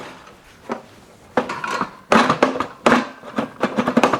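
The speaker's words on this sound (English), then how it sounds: "And there's a drawer that is currently stuck." The stuck drawer of a portable wiring kit is worked by hand, giving irregular wooden knocks, clacks and rattles that come in uneven bursts, close and fairly loud.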